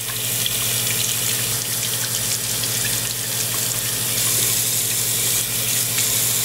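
Makeup brushes rinsed under a steady stream of running tap water at a sink, a continuous close splashing hiss that stays even throughout with no talking.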